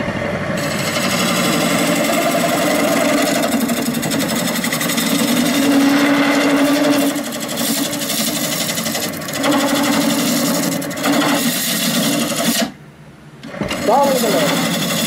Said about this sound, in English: That is stalling the lathe.